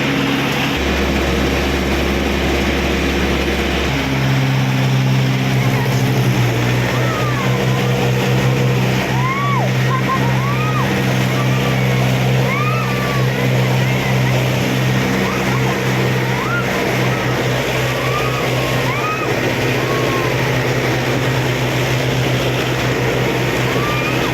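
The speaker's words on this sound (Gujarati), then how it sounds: "આશરે 22 રેસની અંદર બંને ટ્રેક્ટરને ચલાવવાના છીએ." Steady low drone of two Mahindra tractor engines, including a 475 DI, that rises into a stronger, deeper roar a few seconds in and holds during a tractor power race, with birds chirping faintly in the background.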